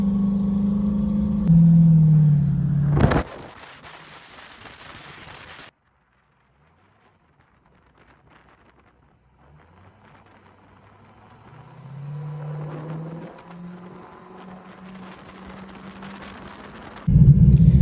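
A turbocharged LS-swapped Camaro drones along at half-throttle cruise, a steady mid-pitched engine note rising slightly in pitch, with a loud roar bursting in near the start and end and a quiet gap between.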